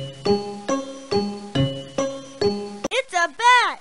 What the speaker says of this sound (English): It's a bat.